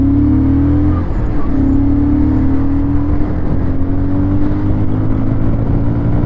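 A Bajaj Pulsar 220F motorcycle ridden at speed on a road, its engine giving a loud, close, steady mid-pitched hum with a slowly rising tone, plus rushing wind noise and no voices.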